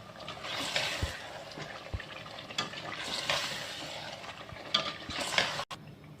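Chicken pieces coated in yogurt, headed for chicken nihari, sizzle and sputter in a pan with a constant wet frying hiss. A spoon scrapes and stirs now and then, and there is a sharp clunk near the end.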